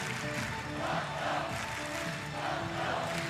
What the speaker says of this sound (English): Crowd now clapping and chanting in rhythm